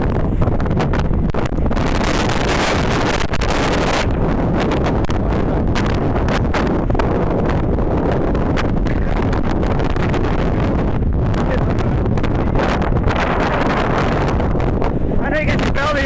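Strong wind buffets the microphone outdoors on a blustery, sandy day, a loud, unbroken roaring rumble that fills the whole stretch with gusty surges, while a voice speaks faintly underneath.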